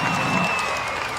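A large outdoor crowd at a Christmas carols concert applauds and cheers for a dancing Christmas tree performer: a loud wash of clapping and whoops, spread wide and steady, fading slightly toward the end.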